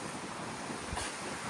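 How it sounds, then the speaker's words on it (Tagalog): Strong wind blowing across a campsite at a motorcycle camp, a steady broadband rushing roar that buffets the microphone continuously with slight gusting swells, no voices. "Grabe, lakas pa din ng hangin."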